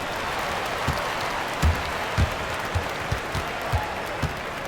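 Arena crowd noise from the basketball game NBA 2K26, a steady broad roar with scattered low thumps like bouncing or stomping throughout, no distinct cheer peaks.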